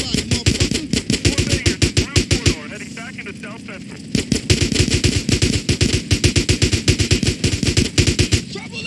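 Rapid automatic gunfire in the video game GTA San Andreas, with dense bursts of close, loud shots that stop briefly near the middle amid shouting voices and then resume as sustained fire.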